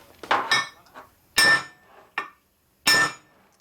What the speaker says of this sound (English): Now to pop the taper free, right here in the bottom, 180 away from the flywheel